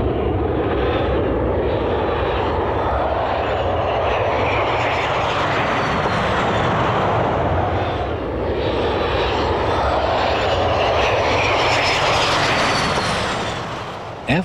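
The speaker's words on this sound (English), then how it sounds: "From the front, there is a high-pitched whine, while from the rear, there is only a faint rumble." An F-117 Nighthawk stealth jet roars loudly and continuously, a high-pitched engine whine riding over a deep rumble that swells and dips slightly as it passes.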